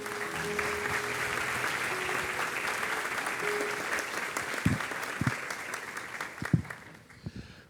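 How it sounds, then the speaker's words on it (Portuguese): Church congregation at a youth service claps in a full, steady round of applause that fills the room, thinning toward the end with a few louder individual claps and thumps as it fades. "Dê uma salva de palmas ao Senhor, amém?"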